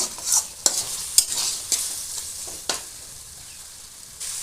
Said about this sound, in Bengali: আমি উদান রেখে একটু মশলাটা আর একটু ভালোভাবে ভেজে নেব